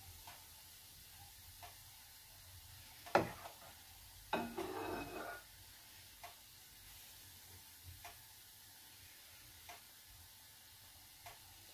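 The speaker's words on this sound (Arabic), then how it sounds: "دلوقتي ماكينة الوافلز سخنت، هنبدأ نحط أول فطاير" Waffle batter poured into a preheated waffle maker gives a brief loud hiss, then a louder sizzling stretch that settles into faint crackles and scattered small ticks in a quiet kitchen.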